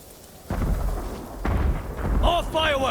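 Fireworks explode in the video game Ghost of Tsushima during a battle on Iki Island, with two heavy booming bursts a second apart, then crackling and a brief shouting voice near the end.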